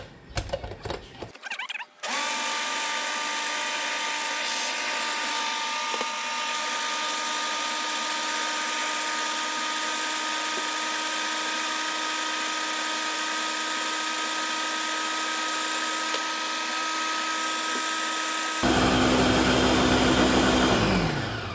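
A kitchen blender running steadily as it purees peanut butter with cassava leaves, a loud sustained motor whine with a steady hum that shifts pitch near the end, preceded by brief clunks as it starts.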